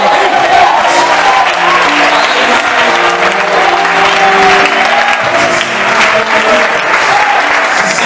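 A church congregation applauds in a long, dense burst of clapping that stays loud and even throughout, with a voice faintly audible beneath it.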